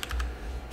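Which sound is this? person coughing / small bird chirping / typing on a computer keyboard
typing on a computer keyboard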